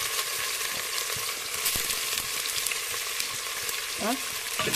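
Onions fry in a pan for a gravy chicken dish, a constant dense sizzle close by with scattered clicks and scrapes of stirring throughout.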